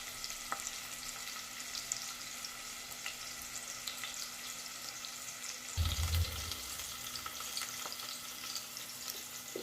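Onion softening and browning in a pan, a low, steady sizzle under faint kitchen clatter, with a brief louder thump or stir near the middle; no one speaks.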